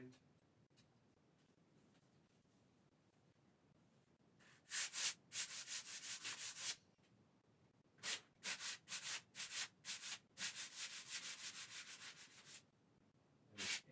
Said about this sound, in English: Got a little sanding block. I'm just going to give that a light sand.